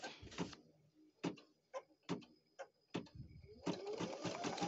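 A Baby Lock Flare embroidery machine produces a series of sharp mechanical clunks and short whirring runs with pauses between, ending in a longer continuous motorized hum, close and clear.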